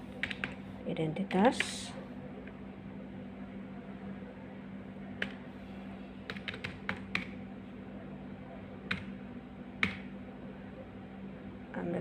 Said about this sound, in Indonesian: untuk membuka program GL kita ketik nama perusahaan